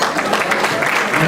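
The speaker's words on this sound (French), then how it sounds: "Monsieur le consul, mesdames et messieurs, sous vos applaudissements." Applause at a French society banquet as the consul is welcomed, a loud, dense burst of clapping from the room, brief and continuous, with voices mixed in.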